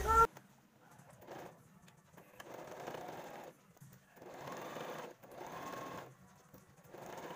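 A sewing machine stitches a fabric dust cover for a sewing machine, running in several short whirring bursts with brief pauses between them, close and steady with no talk over it.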